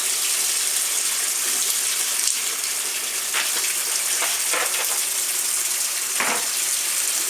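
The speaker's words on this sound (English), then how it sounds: "We fill up the washing machine." Water gushes steadily into a washing machine as it fills for tie-dyeing a T-shirt, a loud continuous rushing stream heard alone, with a few small knocks and splashes.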